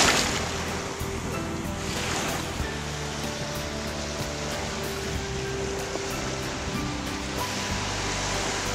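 Steady roar of ocean surf washing on a beach in Destin, Florida, continuous and close, with wind buffeting the microphone throughout.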